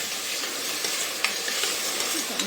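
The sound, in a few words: chana dal curry frying in oil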